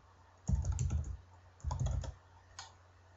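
Typing an email address on a computer keyboard: two quick clusters of close key clicks followed by a single softer tap, quiet and otherwise near-silent.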